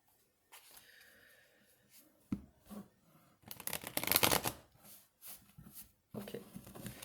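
Queen oracle cards being shuffled by hand, several bursts of riffling and sliding card noise with short pauses between them, close and fairly loud.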